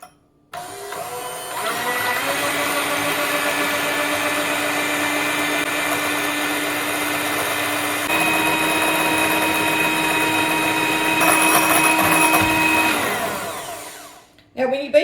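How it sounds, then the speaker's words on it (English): An electric mixer beats egg whites for a 1927 spoon bread recipe, a steady droning motor whine that runs for about fourteen seconds, shifting pitch slightly partway through before cutting off. "let's go ahead and beat our egg whites while we're waiting on that milk to get warm"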